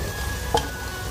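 Bottle gourd peel bhujiya with yogurt, tomato and salt frying in oil gives a soft, steady sizzle. A single quick scrape of stirring sounds midway.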